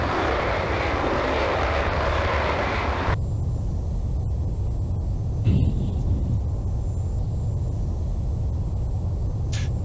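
Jet engine of a MiG-25/31 in the Falcon 4 Allied Force flight simulator, a steady loud roar during a climb that turns duller and lower after a few seconds, with a faint beep partway through.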